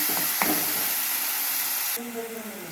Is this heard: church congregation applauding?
no